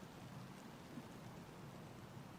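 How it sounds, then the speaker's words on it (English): Heavy rain falling steadily in a deserted ghost town, a faint, even hiss of drops on surfaces with no breaks. "It's raining a lot more."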